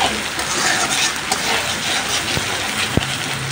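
Ground garlic, ginger and onion spice paste frying in hot oil, giving a steady soft sizzle with faint stirring clicks and a couple of sharp utensil taps near the end, no talking.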